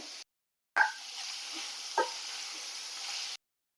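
Bottle gourd, green chillies and dal sautéing in a pan give a soft, steady frying hiss after a brief silence, broken by a couple of light stirring knocks before it cuts off.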